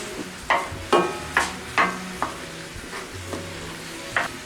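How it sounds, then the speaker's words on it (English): Sausage cooking on a Blackstone griddle outdoors, a steady sizzle under sharp scraping strokes of a spatula against the flat top, repeated every half second or so, close and fairly loud. "I'm gonna cook the sausage and the eggs in here like we do when we make the fast burritos"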